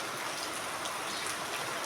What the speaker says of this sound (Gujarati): વરસાદ શરૂ થઈ ગયો હારા મારા